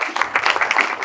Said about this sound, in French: Je pense qu'il mérite quand même d'autres applaudissements pour son travail.